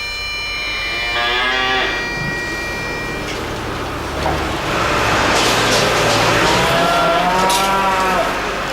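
Cattle low loudly on open, treeless Orkney farmland, with several long moos close by and a faint passing car rumbling in the background.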